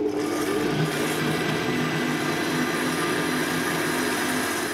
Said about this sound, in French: Là on va mixer l'ensemble pour qu'il y ait un mélange bien homogène